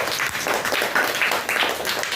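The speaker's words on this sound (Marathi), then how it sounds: "टाळ्या वाजवा स्वरासाठी." Children clap for a girl named Swara during a lesson, a short, brisk burst of hand claps with a loose, uneven rhythm.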